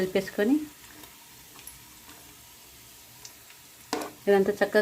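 Scraping stirring sounds as water is mixed into chicken curry in a sizzling pan, with short bursts of voice at the start and end and quieter simmering in between.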